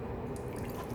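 A wet cloth is wrung out over a bucket during window cleaning, giving a short, close trickle and patter of water drops falling into the bucket.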